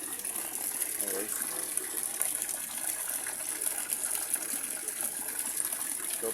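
Water gushes steadily from a coin-operated water vending machine in a continuous hissing stream, heard close and fairly even, with a voice talking faintly over it.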